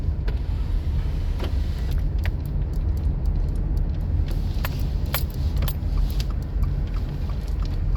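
A car cruises the streets of Plattsburgh with a steady low engine and road drone from inside the cabin, marked by scattered small clicks and rattles, and no one speaking.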